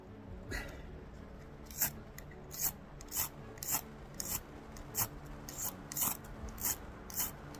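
A striker rasps down a ferro rod in about a dozen quick, evenly spaced scrapes outdoors on a cold spring night, each stroke a sharp close burst over a faint background.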